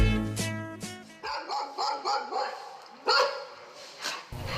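A dog barks repeatedly in short yapping bursts, fairly close, with people talking around the barks.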